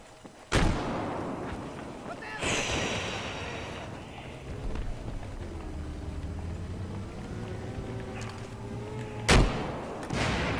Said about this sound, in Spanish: Somos dos tirando cohetes.